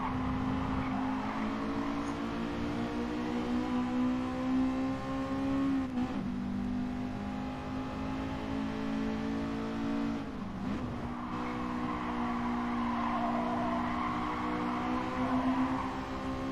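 Race car engines roar continuously in GT Sport, a steady high-revving drone with brief lifts around corners and some tire squeal, loud and without talk.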